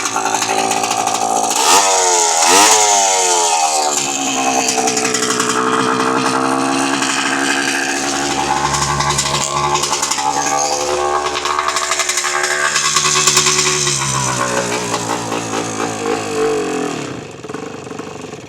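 Yamaha IT 250 two-stroke dirt bike engine running loud and close, a buzzing, raspy idle with a couple of sharp revs early on that settles and fades slightly near the end.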